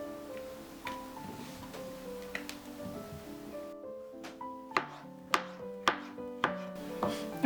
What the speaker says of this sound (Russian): Итак, мы сейчас будем нарезать шампиньоны.